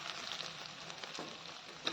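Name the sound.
chital fish balls frying in oil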